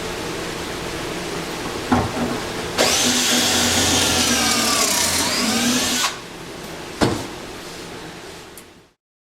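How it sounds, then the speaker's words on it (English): A power drill boring pocket holes for a fish tank cabinet whirs loudly for a few seconds, its pitch sagging under load before cutting off, with a couple of sharp knocks around it. "you're ready to put pocket holes in it"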